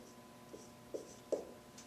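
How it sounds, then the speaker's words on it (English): A pen or pencil writes out a trigonometric identity problem on paper, giving a few soft, close scratches and taps spread over a couple of seconds. "I'm just going to write down, I'm going to write down it higher."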